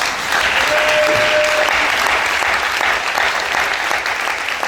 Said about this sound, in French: On peut acclamer le Seigneur pour cela.